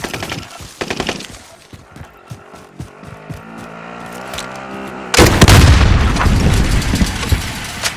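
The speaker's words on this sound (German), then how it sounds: "Der Feind sprengt über dem Gebiet ab!" Enemy airstrike explosions and gunfire in the Call of Duty Warzone video game: loud booms and rapid shots over a rumbling backdrop, building to a heavy, sustained blast at the end.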